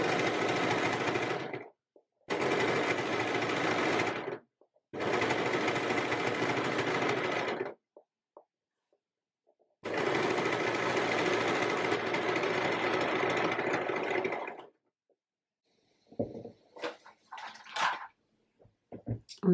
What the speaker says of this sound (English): place that under my overlocker. And then just using this finger, I'm going to guide it around.